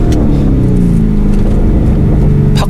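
A Lamborghini Urus with a custom variable exhaust set to its loudest mode in Corsa drive mode gives a loud, close, continuous engine drone, with a burst of sharper pops and crackles near the end.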